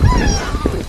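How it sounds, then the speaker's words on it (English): A few geese honk at a distance at sunset on an African safari, brief nasal calls rising over a low, rumbling outdoor background. "there you go, the geese."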